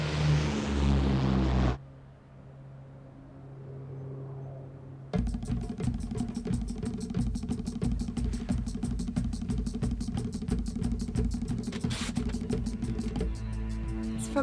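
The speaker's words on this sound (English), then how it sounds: "Lethal Force Twin, you're cleared for takeoff from Dallas Downtown Airport" A twin-engine aircraft taking off from Dallas Downtown Airport, with a loud burst, a brief dip, then a steady, powerful engine and propeller drone that holds strong through the rest, close and without talk.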